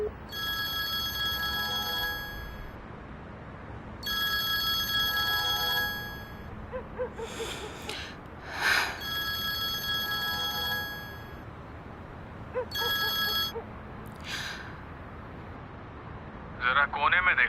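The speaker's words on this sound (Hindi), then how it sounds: "किसी का फोन आ रहा है" A telephone rings in repeated bursts of bright electronic trilling separated by short gaps, with brief other noises in between and no talking over it.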